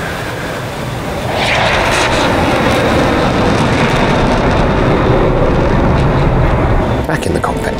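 F-16 jet engine in the DCS flight simulator game, a steady loud broadband roar that swells after the first second and holds continuously, with faint talk over it.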